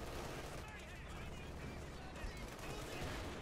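Machine gun fire in the World War II strategy game Company of Heroes 2, heard as dense, distant-sounding bursts of rattling gunfire and explosions under a speaking voice.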